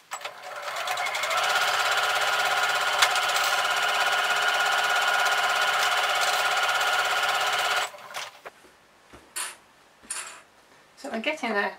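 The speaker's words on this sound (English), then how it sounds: "Right, let's sew that in place." A sewing machine stitches ribbon onto a homemade reusable fabric Christmas cracker, whirring steadily and loudly for about eight seconds before stopping, followed by brief handling noises.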